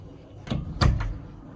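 A door is knocked on: two or three dull thuds, the middle one strongest, fairly quiet against a faint room background.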